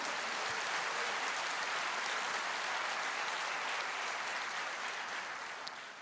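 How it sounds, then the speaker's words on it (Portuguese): A church congregation applauds in praise of the Lord, dense sustained clapping from a large crowd, loud and steady for about six seconds before easing slightly at the end. "você pode dar uma salva de palmas para o Senhor?"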